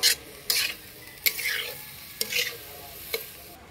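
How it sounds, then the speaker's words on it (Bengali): A utensil stirs salted shrimp and ash gourd in a pan, giving about five sharp scraping strokes at uneven intervals over a soft background sizzle. "নুনটাকে দিয়ে আর একবার ভালো করে মাখিয়ে নিব।"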